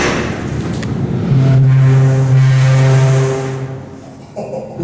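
The motor of a Montgomery freight elevator running severely low on oil gives a loud, close mechanical drone with a strong low hum that holds steady and then slowly fades.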